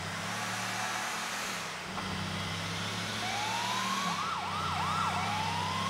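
A police car siren in the video game Grand Theft Auto IV, wailing over a low engine drone, rising and falling in quick sweeps as it gets louder toward the end.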